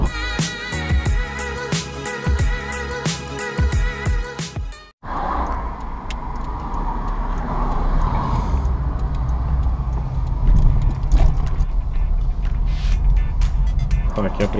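A car drives along a road in steady, moderate engine and tyre noise that fills most of the stretch after an abrupt cut from music, with no talk over it.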